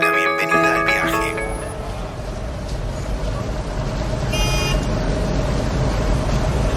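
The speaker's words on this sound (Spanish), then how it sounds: "Mañana soleada, en pleno centro, se escuchan bocinas." City centre traffic on a sunny morning beside a bicycle station: a steady low rumble of engines, with car horns honking near the start and a short, clear toot in the middle.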